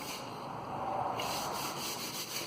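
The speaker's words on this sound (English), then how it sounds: "I could sand this forever and a day" Wood being sanded by hand under firm pressure, a steady close abrasive rubbing that continues without a break and swells slightly in the middle.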